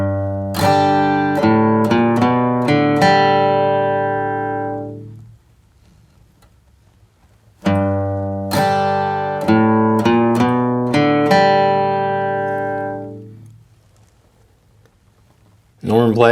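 Two quick, bright bluegrass G runs on acoustic guitar, picked notes each ending on a ringing chord that slowly fades, played solo and close.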